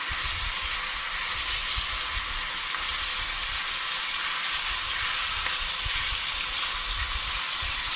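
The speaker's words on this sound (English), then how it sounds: "Going to add the last burger into the pan." Beef burger patty sizzling steadily in a hot pan while making smash burgers, a continuous loud hiss and crackle of frying with no talking.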